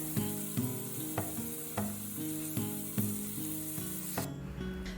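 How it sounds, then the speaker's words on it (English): Chili simmering in broth in a pot, stirred with a utensil that scrapes the bottom to loosen browned bits, giving a steady sizzle with regular scraping strokes about every half second, under a tonal background. "stirring and scraping the bottom of the pot to loosen and dissolve any browned bits"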